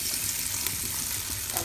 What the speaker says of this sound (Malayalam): ഇനിയിപ്പോൾ ഈ ചട്ടിയിൽ തന്നെ ഞാൻ മുരിങ്ങ താളിപ്പ് ഉണ്ടാക്കുക കേട്ടോ